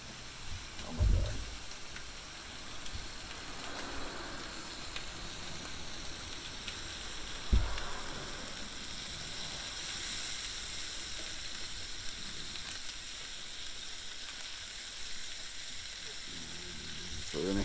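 Steady frying sizzle from sausages and skirt steak cooking over an open firepit as mop sauce is splashed on, with a couple of brief louder bursts where the liquid hits the hot meat, and no talking.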